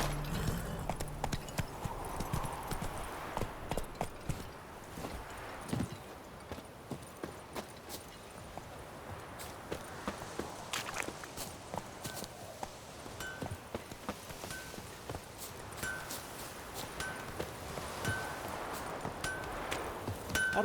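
Roach's hooves in The Witcher 3 clatter on and off over a long stretch, shifting between walking and galloping in a rhythmic clip-clop. The beat comes through faint to moderate amid the surrounding game ambience.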